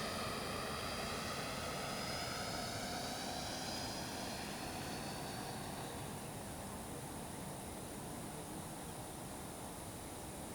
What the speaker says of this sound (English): I run a bit long before I touch down, but you'll notice with the thrust reverse, the Viper 90 can stop very fast as well.